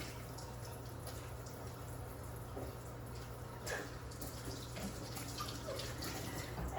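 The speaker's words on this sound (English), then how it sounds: "I'm going to wash my hands." Hands washed under a running kitchen tap before kneading challah dough: a steady, close hiss of flowing water with light splashing and a low hum beneath, continuous throughout.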